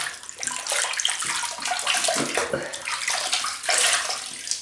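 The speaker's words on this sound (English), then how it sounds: "So I just rinse the face." Water runs steadily from a tap while a face is rinsed, with splashing and gurgling shifting in intensity as hands move through the stream, close and moderately loud.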